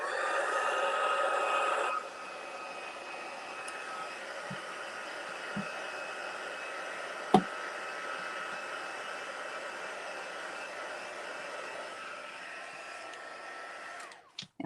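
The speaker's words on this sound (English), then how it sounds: "I am going to give it a quick blast with my heat tool, only because it's still a bit damp" A heat tool blows hot air steadily to dry a damp bubble wrap craft background. The hiss is strongest for the first two seconds, then drops to a softer, even whoosh that carries on for more than ten seconds and ends abruptly.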